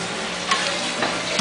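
Yakisoba sizzles and crackles steadily in a hot pan, with occasional stirring scrapes, close and continuous.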